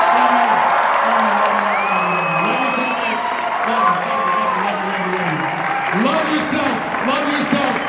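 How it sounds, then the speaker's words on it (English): At a FanX 2025 convention panel with a celebrity guest, a crowd applauds and cheers continuously, a broad, loud wash of clapping with whoops rising over it and voices mixed in. "A huge round of applause"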